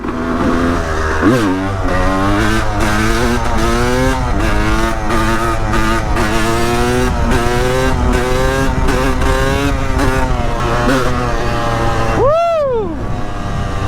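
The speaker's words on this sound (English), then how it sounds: "Oh, it loves those speed bumps now." A motorcycle with a fixed rear shock rides over a series of speed bumps, its engine loud and close with rising and falling revs, ending in a sharp rev burst; faint voices are under it.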